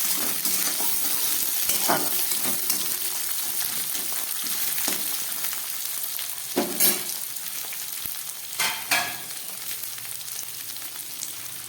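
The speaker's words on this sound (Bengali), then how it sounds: "এবারে দিয়ে দিচ্ছি ফুলকপিটাকে দিয়ে আমি একটু ভালো করে ভেজে নেবো আগে" Cauliflower, with peas already added, sizzles and fries in a pan, a steady crackling hiss broken by a few louder stirring clatters near the end.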